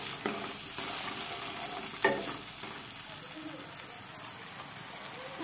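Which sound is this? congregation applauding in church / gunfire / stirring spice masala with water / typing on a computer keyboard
stirring spice masala with water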